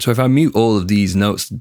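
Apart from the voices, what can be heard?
None of the usual background noises is heard.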